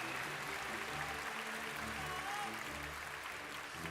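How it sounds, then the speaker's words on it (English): A large crowd claps steadily and evenly in a big hall at the Pokémon World Championships finals in Yokohama, Japan. The applause is dense and fairly distant, with no voices heard over it. "Is there anything you want to say to this huge crowd who's here clapping for you now?"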